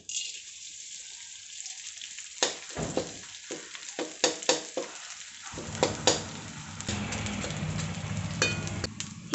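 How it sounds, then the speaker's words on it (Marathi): Edible gum (dink) frying in hot ghee, crackling and sizzling up close in bursts, with stirring knocks and scrapes that give way to a denser, steadier fry toward the end. "हा राहिलेला डिंक तळून घेऊयात"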